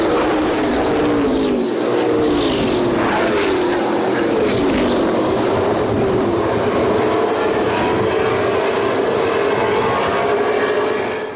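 NASCAR race cars roaring past on track, a loud continuous engine drone with pitch sweeps as they pass, close and steady throughout, without speech.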